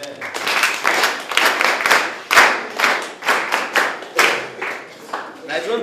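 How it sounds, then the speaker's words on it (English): Students in a classroom clap their hands together in a rhythmic, fairly loud round of applause lasting several seconds, in steady repeated bursts. "We may clap hands for that."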